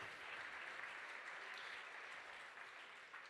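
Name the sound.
gala audience applause for the auctioneer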